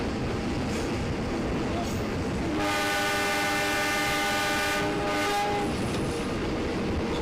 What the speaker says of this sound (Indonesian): rangkaian kereta api yang ditarik oleh lokomotif besar sekelas CC203 dengan 3 kereta ekonomi